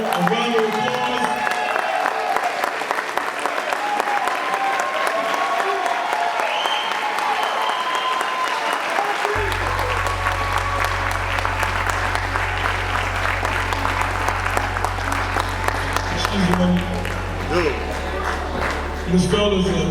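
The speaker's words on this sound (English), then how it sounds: "So if we all could just stand and give this fellow a round of applause." Prolonged audience applause at a barber and beauty institute graduation ceremony, a large crowd clapping steadily for about twenty seconds with a low hum underneath in the latter half.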